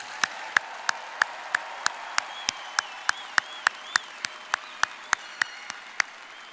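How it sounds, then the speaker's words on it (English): Applause for graduates at a spring undergraduate commencement ceremony, with a crowd clapping steadily in a large hall and sharp, evenly spaced louder claps standing out near the microphone throughout. "A round of applause for our graduates."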